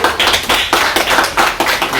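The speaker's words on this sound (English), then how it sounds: "Give them a big round of applause like that." A small group gives students a round of applause, loud close clapping in irregular bursts with short gaps between them.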